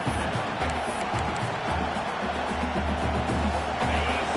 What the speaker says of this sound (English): This crowd knows this defense needs them right now.